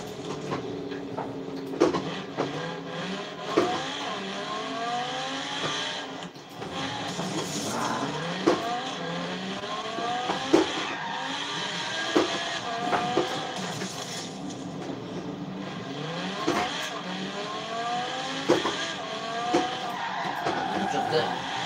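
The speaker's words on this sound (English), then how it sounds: "I'm making a drift." A car drifts in a video game, with repeated rising tire squeals and skids over a steady engine whine, looping through the whole stretch while someone talks over it at times.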